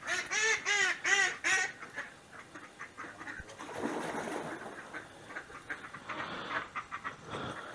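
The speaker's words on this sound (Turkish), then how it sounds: "Bahçemizde de burada ördek bakıyor, tavuk var." Ducks in a village garden quack loudly in a quick series of nasal calls, then fainter, scattered quacks and honks continue over outdoor background noise.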